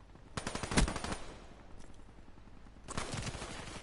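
Automatic gunfire in the video game Black Ops 3: two loud bursts of rapid shots, one near the start and another toward the end, with a quieter gap between and no talk.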